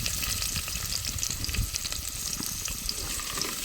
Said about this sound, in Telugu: పోపు అయితే ఇలా వేగింది కదా